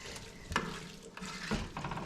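Rice for Puerto Rican arroz con gandules cooking in a pot on a lit stove, giving a soft steady sizzle with a few louder stirring scrapes and clatters against the pot, close by and with no talking.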